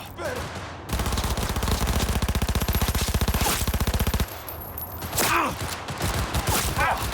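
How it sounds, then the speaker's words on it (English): Police officers in Cyberpunk 2077 open up with rapid automatic gunfire, a loud continuous burst lasting several seconds, followed by a few scattered sharper shots and echoes. "The police really shooting me,"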